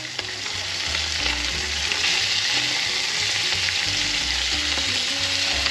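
Freshly caught Louisiana fish searing in a hot pan, giving a steady, loud, close sizzle and crackle of frying that runs unbroken throughout, with no voices.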